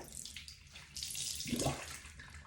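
Water runs from a bathroom sink tap during face washing in a night skincare routine, a soft hiss and splash that swells near the middle as hands scoop and rinse, with no speech.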